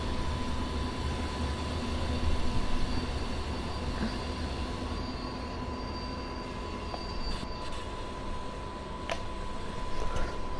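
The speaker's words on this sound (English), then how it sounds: "Let me stop the train." A DB BR 155 electric locomotive in the Train Sim World game rolls to a stop, with steady rail rumble, a constant tonal hum and faint squealing wheels throughout, no voices.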